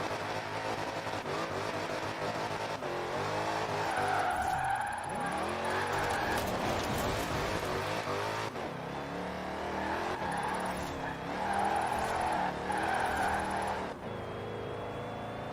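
Dodge Challenger Hellcat drifting in Forza Horizon 4, an engine roaring and revving up and down over long sideways slides with tyre squeal, game music faintly underneath.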